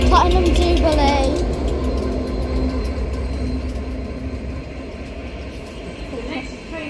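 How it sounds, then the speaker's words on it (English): A train rolls through a British station platform in the rain, a loud deep rumble with rhythmic clatter of wheels over rail joints and a brief squeal, gradually easing as the carriages pass. "Okay, here's another train."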